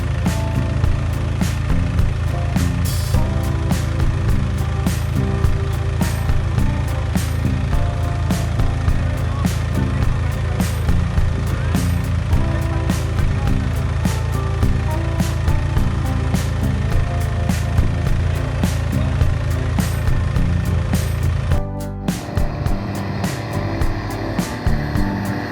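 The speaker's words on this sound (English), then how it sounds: "The mighty MTZ 3522, a symbol of brute force, doesn't just slide into a pit, it is yanked straight in and slammed to a halt" An MTZ 3522 tractor engine labours steadily in mud, a loud continuous drone with dense low rumble that cuts off abruptly near the end, giving way to a thinner, rougher mechanical sound.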